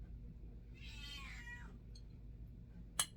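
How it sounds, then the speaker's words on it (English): An indoor house cat lets out a single drawn-out meow, close and fairly quiet, followed by a brief click in an otherwise quiet room. "No, don't just meow at me."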